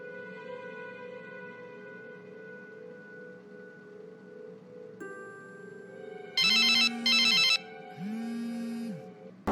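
A mobile phone ringtone goes off indoors in two quick loud bursts, then a longer ring, after a quiet steady tonal background.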